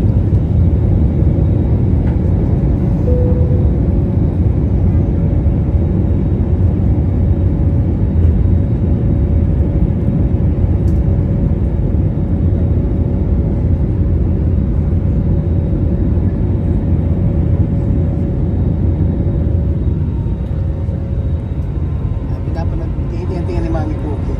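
An airplane takes off on a flight to Cebu, a loud, sustained low roar heard close from inside, with people talking over it.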